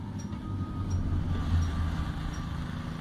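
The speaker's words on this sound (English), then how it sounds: "A small empty train car with an empty caboose slowly moves along the track" A small empty train car and caboose roll slowly along the track, giving a steady low rumble with faint squeaks, moderately loud and continuous, with no talking.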